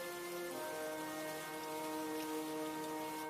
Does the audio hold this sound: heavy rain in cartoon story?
yes